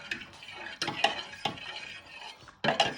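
Spoon scraping and clinking in a pan of creamy Tuscan chicken with stock, several distinct stirring strokes with light metallic knocks, close and fairly quiet.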